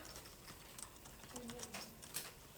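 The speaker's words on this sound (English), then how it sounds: "We're just typing it in so we have it." Computer keyboard keys tap in quick, uneven bursts of faint clicks, close and quiet, with no talking over them.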